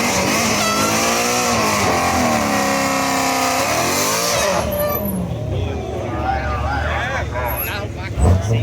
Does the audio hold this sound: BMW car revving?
yes